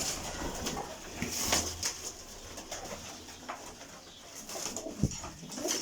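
A flock of around 75 pigeons of mixed breeds at a breeder's loft, soft overlapping cooing with occasional wing rustles and knocks, moderately near amid ambient noise.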